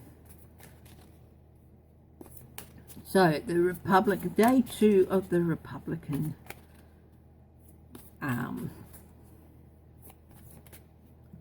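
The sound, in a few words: shuffling a deck of playing cards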